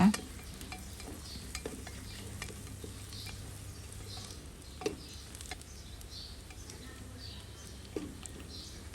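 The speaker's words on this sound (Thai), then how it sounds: "ใส่ใบเคอรี่ลีฟค่ะ พริกเขียว ผัดให้สุกค่ะผัดไปเรื่อยๆ" Curry leaves, green chili and onions being stir-fried in a pan, with a low steady sizzle under intermittent scraping and stirring clicks of a utensil, close and fairly quiet throughout.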